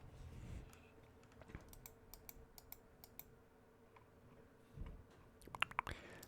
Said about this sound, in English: let's do some clicking sounds